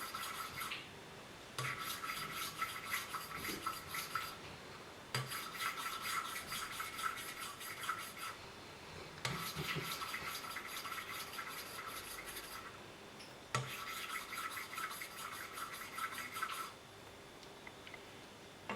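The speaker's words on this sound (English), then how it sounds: "eventually you will be able to hear that we're finished with lapping this valve" Soft gritty rubbing and rasping as an engine valve is lapped on a 1983 Kawasaki 750 LTD, in repeated bursts of a few seconds each, separated by short pauses, quiet and close with no voices.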